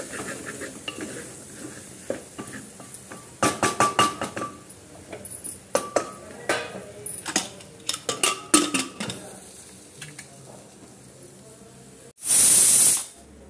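A pressure cooker cooking a vegetable dish, with scattered close clinks and stirring clatter, then one loud, sustained whistle of steam bursting out near the end.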